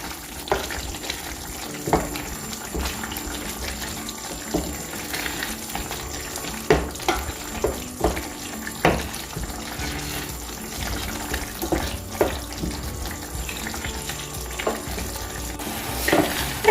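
Pizza sauce bubbling in a pot, a continuous busy hiss with scattered pops and splatters throughout, fairly loud and close, no voices.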